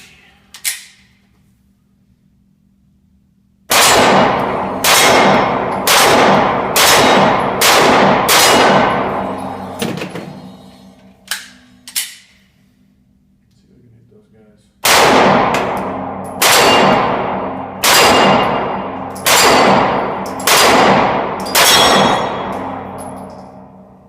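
A Glock 43 pistol fires at the range in two strings of five or six sharp, loud shots, each followed by a ringing decay. A few faint clicks fall in the quiet gap between the strings.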